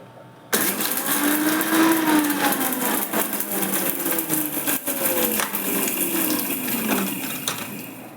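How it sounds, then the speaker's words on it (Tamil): A mixie mixer grinder runs on curry leaves, cumin and pepper, starting abruptly with a loud, close, whirring grind that holds steady for several seconds, its pitch shifting slightly as the spices break down. "எங்கிட்ட அம்மி இல்லை கைஸ், அதனால மிக்சியில் போடுறோம்"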